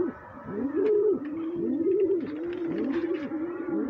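Pigeons in a home loft, including a brooding red checker, coo in a steady repeating rhythm of rising, falling calls, close and clear and roughly three cycles in a row, with no voices.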